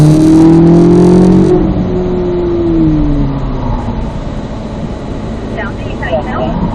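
Race car accelerating on a track during a pro driver's driving session, a loud engine note rising in pitch before easing into a steady roar, with a voice talking over it.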